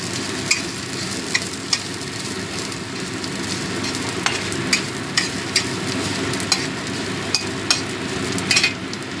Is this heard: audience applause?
no